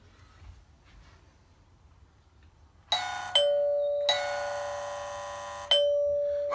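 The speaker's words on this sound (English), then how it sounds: "So let me ring the doorbell so you can hear it." A doorbell rings loudly several times, each ring a sustained metallic buzz-chime that cuts off, after a quiet stretch.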